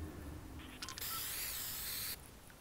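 Spray can hiss from painting a sign in Fortnite, a steady broadband burst lasting over a second with a shorter puff just before, fairly loud against a quiet game background.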